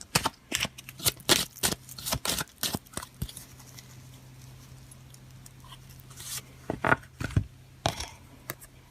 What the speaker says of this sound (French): on va voir avec le jeu divinatoire de Yagal Didier un complément